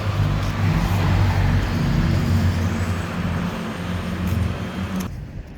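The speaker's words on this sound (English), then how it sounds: "Another truck going by." A truck passes on a small-town road, a loud, broad rumble of engine and tire noise that swells and holds before cutting off abruptly near the end.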